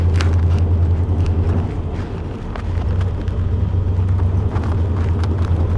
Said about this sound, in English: Truck's running good so far.